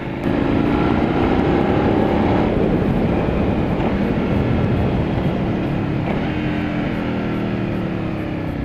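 A well-maintained motorcycle with over 10,000 miles on it revs its engine beside a pool, producing a loud continuous roar with rising and falling pitch sweeps, heard alone without talk.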